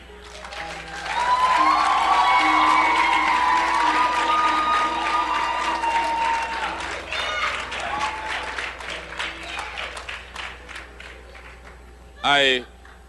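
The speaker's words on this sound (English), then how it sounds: "I'm hearing the applause from all the single people" A church congregation breaks into applause and cheering after a prayer at a sermon, with loud clapping and whoops over a sustained tone, fading out into scattered claps before a short burst of sound near the close.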